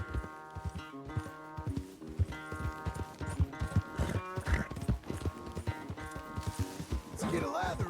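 A horse gallops in the Red Dead Redemption 2 video game, with fast, rhythmic hoofbeats that pound on throughout, mixed with game music and a person talking.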